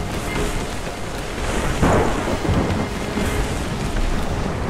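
Stormy thunder in Rise of the Tomb Raider, a loud continuous roar of wind and rain with a deeper rumbling swell near the middle.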